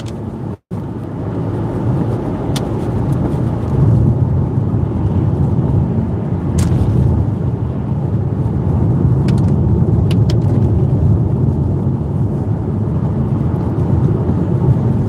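Car driving steadily on the road, a continuous loud broadband rumble of tyres and engine with a few brief clicks and a short dropout near the start; no clear whine stands out and no one speaks.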